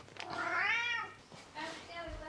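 A cat meows loudly with a long, rising and falling cry, followed by a second shorter meow, close by and alone in a quiet room.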